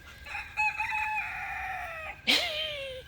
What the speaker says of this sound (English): Those chickens don't care about you.